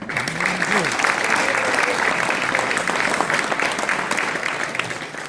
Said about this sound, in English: We can clap for our varsity.